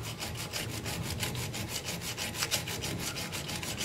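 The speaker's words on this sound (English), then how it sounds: "Just lay it flat on there. And just run it back and forth." A Forstner bit is rubbed flat back and forth on an oiled diamond sharpening card, a steady close rasping scrape with rapid regular strokes and no talking.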